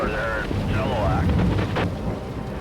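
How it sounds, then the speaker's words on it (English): A dense, steady roar of heavy rain in the Fraser Valley, British Columbia, with faint higher tones drifting over it and a low rumble beneath. "heavy rain has hit the Fraser Valley"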